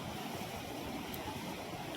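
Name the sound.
dam water rushing out fast under a bridge, Dhanegaon dam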